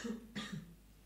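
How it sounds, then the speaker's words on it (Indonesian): A single short cough, soft and close, followed by a faint throat-clearing rasp in an otherwise quiet setting. "Oke, ini agak batuk sedikit ya."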